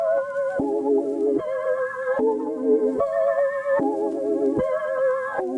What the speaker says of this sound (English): cut off some lows, RC20 on it, with some noise, some wobble effect, bit of distortion, and it sounded like this